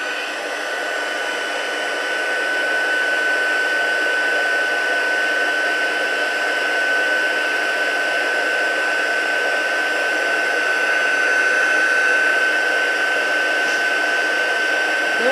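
A heat embossing tool blows hot air onto a card in a steady, continuous whirring hum with a faint high whine, close and unbroken for the whole stretch with no talking.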